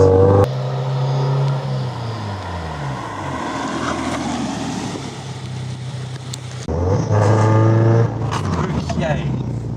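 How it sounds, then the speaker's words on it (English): A Subaru BRZ with a big brake kit revs up through the gears to 70 mph, then eases off as it slows under firm braking, with wind and road noise throughout. "So speed up to 70 and then firm on the brake all the way down."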